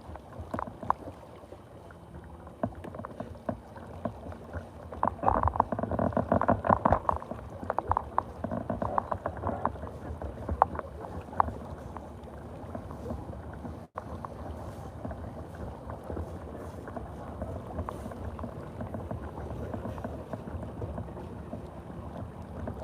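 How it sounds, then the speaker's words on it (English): Small inflatable boat pushed by an electric outboard on a river between Potter Heigham and Thurne Mouth, a steady low hum with water wash and wind buffeting the microphone throughout, no talking. "and I've only got electric outboard on."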